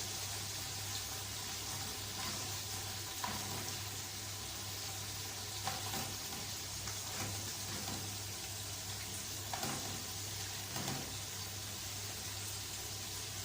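Herring and potatoes frying in a pan after being flipped, a faint, steady sizzle with a low hum underneath and occasional soft clinks, no talking.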